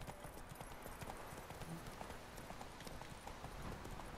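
Horse hooves clip-clop steadily at a riding pace in The Witcher 3, a continuous rhythmic clatter over a dense outdoor ambience, faint overall and with no talk.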